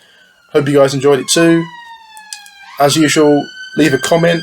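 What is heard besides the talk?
sirens in the background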